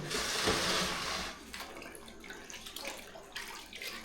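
Water splashes and pours loudly at first while a muddy dog is washed, then settles into quieter trickling and intermittent splashes, with no voices.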